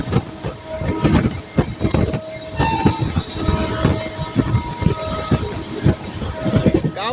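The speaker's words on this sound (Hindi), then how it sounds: "तो अब हम लोग की ट्रेन यहाँ पर एटावा जंक्शन रेलवे स्टेशन को स्किप करने वाली है।" The Sampoorna Kranti express train runs through Etawah Junction without stopping, a loud steady rumble with rhythmic wheel clatter and squeals heard from on board, while people talk over it.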